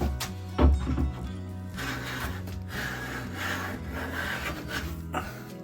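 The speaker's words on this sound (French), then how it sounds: "je vais le raboter pour que ce soit bien lisse" Rough rasping strokes of a hand plane scrape across a wooden Windsor stool part, removing circular saw marks, a few stronger pushes followed by quieter, steady shaving passes, heard close up.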